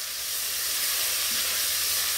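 Sainsbury's frozen mince meat searing in a frying pan gives a dense, constant hiss and sizzle, loud and close, unbroken throughout with no talking.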